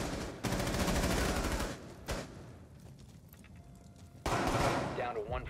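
Rapid bursts of pistol fire from a P226 in a multiplayer shooter video game, loud sustained volleys at the start and again near the end with quieter pauses between, while players talk excitedly over it.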